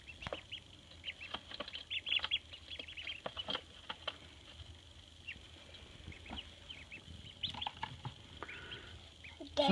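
Ducklings in a brooder patter, scuffle and splash softly close by, with scattered short peeps and rustling bursts over a quiet background and no clear speech.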